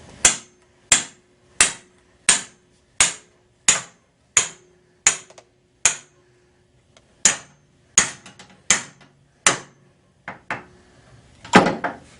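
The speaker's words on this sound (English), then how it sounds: "those were some serious hardcore hammer impacts" Heavy hammer blows strike a Busse knife during a destruction test, about a dozen sharp, loud metallic impacts at a steady rhythm, each ringing briefly, with a pause partway through and a rougher clatter at the end.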